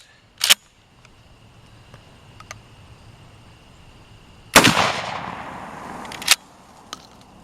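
Three loud shotgun blasts from a Mossberg 500 pump-action firing slugs at pumpkins outdoors, each a sharp crack with a rolling echo, the middle shot booming longest, over quiet background.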